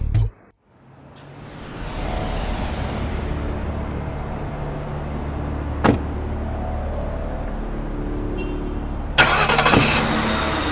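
A car engine cranks briefly, then catches and settles into a steady idle, with a sharp click partway through and a louder rattle near the end; no voices.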